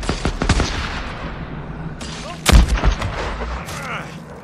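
Gunfire in the Days Gone Rippers boss fight with Carlos, with sharp shots and bursts spread across the scene and a heavy, booming volley near the middle, loud and close.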